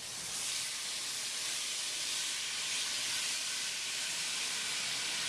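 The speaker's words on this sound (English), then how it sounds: "We're going to dump the pork in there." About four pounds of marinated pork sizzles in hot olive oil in a pot on a Cajun grill, giving a steady, even hiss that stays constant throughout. It is moderately loud, with no talking.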